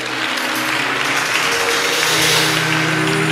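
Loud, sustained applause from a large church congregation fills the clip, dense and steady throughout with a faint tone underneath.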